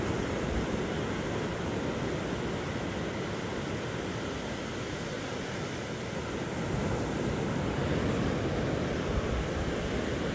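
Steady beach ambience with continuous surf washing in and wind buffeting the microphone, a broad unbroken roar with no voices.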